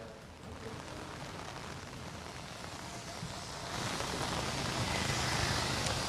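Steady rain falls across Jaipur, a dense continuous hiss that grows a little heavier partway through, with no talk over it.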